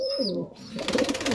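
A pair of pigeons let go from the hand, a soft coo heard first and then a burst of wing flapping as they take off, close and fairly loud.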